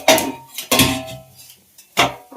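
A metal lid comes off a cooking pot of bitter gourd thoran with a few sharp clanks and a ringing scrape, three distinct knocks spaced across a couple of seconds, close and fairly loud, with no talking.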